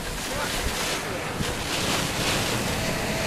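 Strong wind roars constantly near a heavily rain-wrapped tornado in Lawton, Oklahoma, a dense, loud buffeting rush that batters the microphone throughout, with no clear speech.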